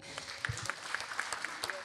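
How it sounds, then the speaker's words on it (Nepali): An audience in a live Nepali comedy show setting applauds, a dense steady wash of clapping with a few sharper individual claps standing out, fairly close and sustained for the whole short stretch. "जोरदार ताली"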